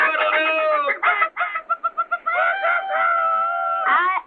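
A person mimics a rooster's crow and a chicken's clucking, one long crowing call broken by a run of short staccato clucks and ending in another drawn-out crow, close and loud with no other sound.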